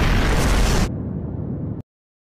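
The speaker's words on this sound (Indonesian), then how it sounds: "Namun tidak lama, ledakan energi sihir terjadi." A magic energy explosion from an anime bursts loud and broadband for under a second, then falls to a duller rumble before cutting off abruptly.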